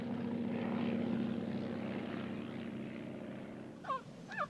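A small single-engine bush plane drones steadily at a distance, a low, even propeller hum that fades slightly, with a couple of brief dog-like yelps near the end.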